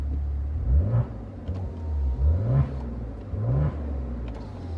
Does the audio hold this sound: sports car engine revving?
yes